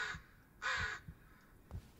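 Crows caw in the video game Blair Witch, two harsh calls spaced about half a second apart over soft low thumps, quiet and distant in an otherwise hushed forest setting.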